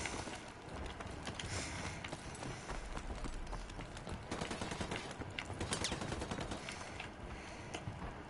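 Gunfire in a video game crackles in dense, rapid volleys like machine-gun bursts, sustained for several seconds at a moderate distance with no talking.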